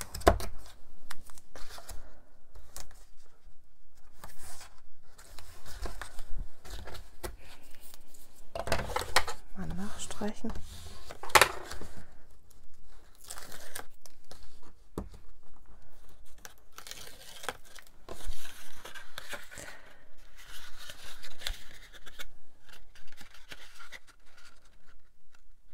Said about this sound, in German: Dann nehme ich einmal doppelseitiges Klebeband.